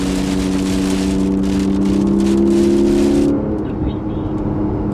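Porsche Cayman GTS 4.0 driving in the rain, its engine droning with steady low tones inside the cabin before easing off partway through, while someone talks over the road noise.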